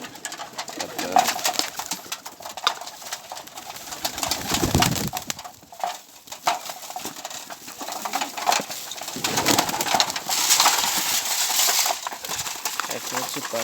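Pigeons coo close by under steady, prominent talking, their low calls recurring throughout amid rustling and some fluttering.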